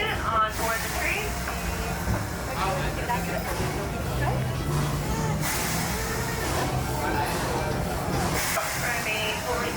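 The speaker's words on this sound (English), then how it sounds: "As we slowly roll into the station, please remain fully seated until we come to a full and clean stop." Walt Disney World Railroad train slowly rolling into the station, a steady rumble of wheels and rail noise running throughout, with a busy murmur of passengers and announcements layered over it.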